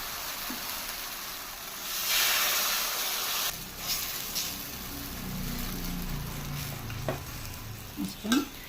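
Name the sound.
jaggery dosa batter sizzling on a hot pan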